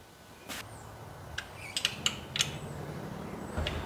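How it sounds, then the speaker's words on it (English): A ratcheting wrench tightening torque converter bolts during a 1985 C30 diesel-to-gas engine swap, giving a few quiet, sharp metallic clicks and clunks spread across a few seconds in a quiet shop. "Let me put a wrench on them, make sure they're good and tight."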